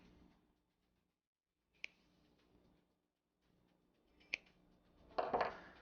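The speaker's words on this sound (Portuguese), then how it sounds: "Agora nós vamos cortar todas as pontas com alicate de corte." Pliers snip through the tips of a miniature steel wool tree in a quiet room, with two sharp isolated clicks a few seconds apart, then a brief louder burst of crisp cutting and rustling.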